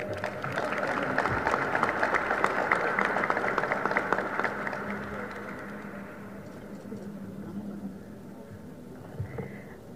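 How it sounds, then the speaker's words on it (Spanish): Applause from an audience at a sports commission event in the State of Mexico, loud, dense and sustained, fading to a lower ripple near the end with some background murmur. "Fuerte aplauso, por favor."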